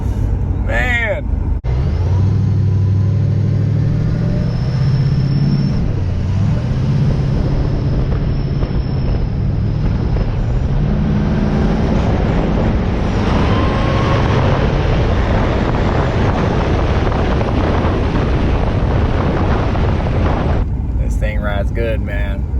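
A 1978 Chevrolet Caprice Aerocoupe cruising down the road, heard from inside as a steady, continuous engine and road rumble with wind noise; a voice talks over it.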